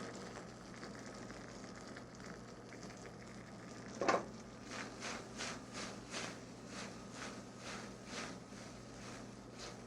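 Mushrooms drop into a hot pan and sizzle steadily, a soft continuous frying hiss with gentle rhythmic stirring pulses, heard close but quiet.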